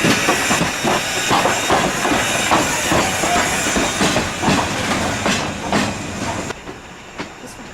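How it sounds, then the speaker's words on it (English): Strasburg Railroad steam locomotive number 90 rolls past close by: a loud, dense roar of hissing steam and rumbling wheels with rhythmic clatter that eases slightly in the final second. "It's gonna be loud."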